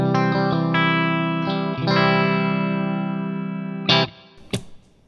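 Electric guitar picked with a 1.4 mm marble jazz pick with six grip holes, ringing sustained chords through effects and distortion, several strums then a few sharp muted hits at the end, close and alone.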